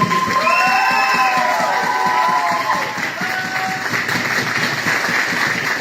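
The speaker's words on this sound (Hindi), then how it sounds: "मैं चाहूंगा एक बार जोरदार तालियां हो जाए।" Loud audience applause and cheering at an IMC business product training event in India, a dense roar of clapping and shouts with whistles and raised voices rising through it, sustained throughout.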